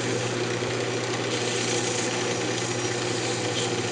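A wood lathe spinning a bandsaw box during fine sanding with 600-grit paper, giving a steady, continuous motor hum and whir with a light, even sanding hiss throughout.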